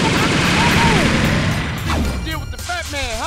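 Rapid bursts of gunfire from the MUGEN 1.1 fighting game, in a match with Carl Johnson against Fubuki Shirakami, form a loud, dense crackle that fades as game voice sounds rise toward the end.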